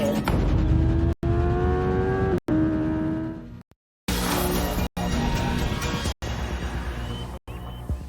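A 180-mile-per-hour superbike's engine revs hard during a police pursuit, loud and close, with rising high-pitched acceleration, cut by brief breaks and a short silence.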